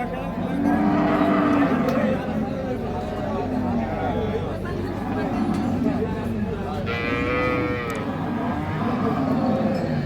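Sahiwal and Sindhi cows with calves moo at Ambari cattle market, several long low calls rising over a constant murmur of people talking nearby.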